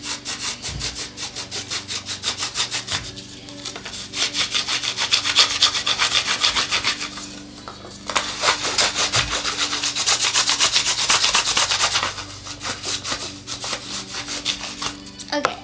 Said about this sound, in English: So I sanded it again.